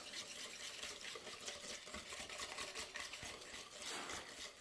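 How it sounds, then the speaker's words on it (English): Metal whisk stirring chocolate chip cookie batter in a mixing bowl, a steady, continuous scraping and swishing with faint rhythmic taps against the bowl, close and unbroken, no voices. "using the whisk, we're stirring everything together to get it to be nice and smooth and totally mixed up"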